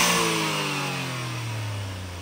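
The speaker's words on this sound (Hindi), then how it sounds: "अभी टर्बो की आवाज।" A turbocharged Suzuki Alto with a Blitz intake revs hard, a loud close engine roar with a rising, then slowly falling drone, with turbo whistle and hiss layered on top, and no voices.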